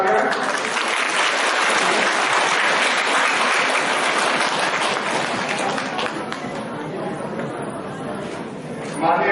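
A large crowd claps loudly during a lamp-lighting ceremony at an agriculture university farmers' welfare event, dense continuous applause close by with chatter mixed in, thinning slightly toward the end.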